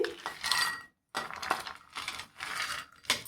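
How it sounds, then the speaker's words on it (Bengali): Cashews, raisins, almonds and tutti frutti tumble into a bowl, giving several bursts of dry rattling and clicking with a short silent gap, close and fairly quiet. "কিছু কাজু নিয়ে নিয়েছি কিশমিশ আমন্ড আর কিছু টুটি ফুটি এটাকে আমি একটা পাত্রে ঢেলে নিয়ে নিচ্ছি"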